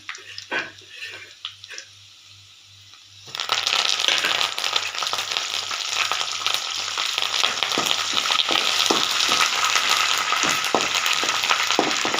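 Curry leaves hit hot oil in a pan for Tamil-style ven pongal and burst into a loud, steady sizzle that carries on without a break. A few soft clinks come just before.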